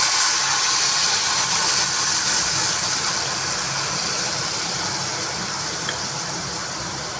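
Spice masala hits hot oil tempered with cumin and bay leaf while cooking matar paneer, producing a loud, steady broadband sizzle that continues evenly throughout with no talking.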